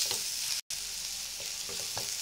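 Chopped onions sauté in a hot pan for a chilli idli dish, giving a steady close hiss of frying with a few faint stirring scrapes and one very brief dropout.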